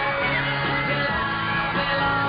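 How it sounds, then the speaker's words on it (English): Fans scream continuously as a Boeing 707 pulls onto its stand at a London airport in 1964, a dense, shrill wall of crowd yells on old, band-limited broadcast audio. "you can hear the screams in the background"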